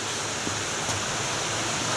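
The River Cole flowing under an old packhorse bridge in the South Pennines, a steady, close rushing hiss of running water that continues without a break and without speech.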